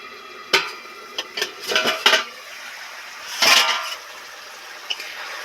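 A metal lid comes off a cooking pot of fig curry, a sharp clank followed by scraping and rattling clatter close by, then a brief knock.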